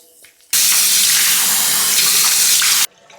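Tap water gushes loudly and close for a little over two seconds while a face is washed during a skincare routine, starting and stopping abruptly.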